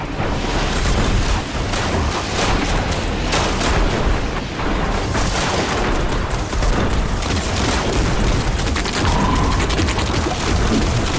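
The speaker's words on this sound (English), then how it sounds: "I'm shooting at them." Sustained, dense video-game gunfire aimed at snipers, with loud continuous bursts and booms overlapping throughout with no pause and no talking.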